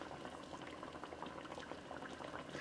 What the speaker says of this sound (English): That's boiling away there